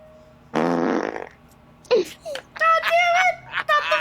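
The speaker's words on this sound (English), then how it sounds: "Not the fart noise!" A loud, drawn-out fart noise from the video game Phoenix Wright: Ace Attorney – Trials and Tribulations, followed by short wailing, whimpering vocal sounds, all close and prominent.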